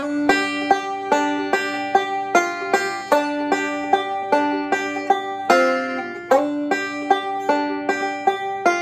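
Five-string bluegrass banjo picks a phrase of the folk tune Pretty Polly in G, bright plucked notes in a steady rolling pattern with ringing harmonics, played alone and close up with no talking.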